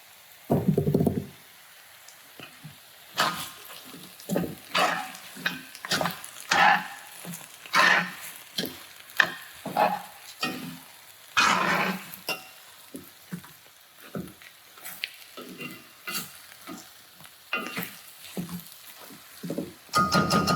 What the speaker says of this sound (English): we're gonna go ahead and dump our sausage in too